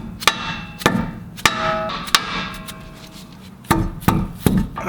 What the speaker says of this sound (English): Bit of a whack on the knuckle.